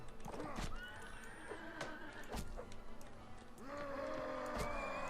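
Horses neigh and whinny amid clip-clopping hooves in a Mount & Blade: Warband battle, with loud repeated whinnies over a dense, continuous din of combat and movement.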